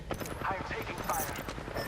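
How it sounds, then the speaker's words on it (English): Rapid gunfire in Apex Legends rattles in a quick steady burst for under two seconds, with a voice speaking over the shots. "I'm taking fire."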